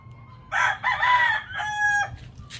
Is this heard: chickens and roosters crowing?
yes